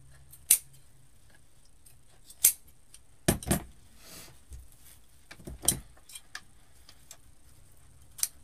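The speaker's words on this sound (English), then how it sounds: "Trim off some of this excess fabric." Scissors snipping excess fabric on a DIY pine arrangement with buffalo check picks: a handful of sharp, isolated clicks and snips spaced a second or more apart, close and quiet.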